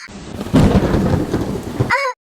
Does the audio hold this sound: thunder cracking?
yes